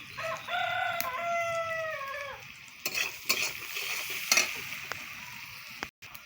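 Onions fried with salt and turmeric sizzle steadily in a pan while being stirred, with a few clattering scrapes, and a rooster crows in the background early on.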